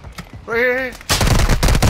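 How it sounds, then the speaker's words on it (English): Gunfire in Warzone 2, a sharp shot early, a pause filled by a tonal sound, then a dense burst of rapid shots near and loud. "Taking effective fire"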